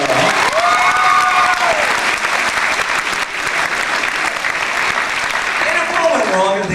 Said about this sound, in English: What a big round of applause